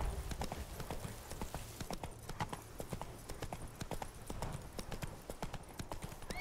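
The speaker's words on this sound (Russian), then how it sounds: "Лошадь." Horse hooves clip-clop steadily in The Witcher 3: Wild Hunt – Blood and Wine, a quick, continuous galloping rhythm of dry thuds at moderate volume, heard alone without talk.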